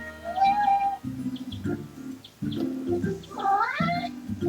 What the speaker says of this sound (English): I wonder if my mic picks up my cat in the background.